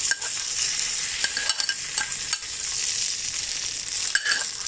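Curry leaves and red chillies sizzle in hot oil for a tempering, a steady crackling fry with faint stirring scrapes throughout, close and moderately loud with no talk.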